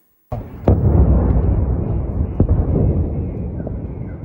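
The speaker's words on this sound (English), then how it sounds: "From 7 this morning, explosions could be heard across the city." A sudden booming missile blast over Kyiv, followed by a long rolling rumble, with a few more distant thuds echoing through the air.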